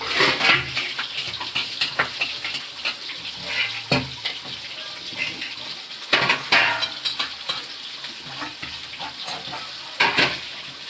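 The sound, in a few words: mangodi lentil dumplings frying in hot oil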